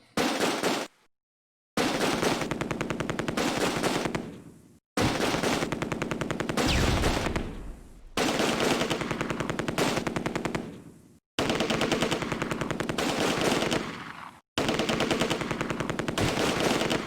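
Long bursts of machine gun fire in the Close Combat: A Bridge Too Far wargame, loud and close, rattling in sustained strings broken by brief pauses, with no voices.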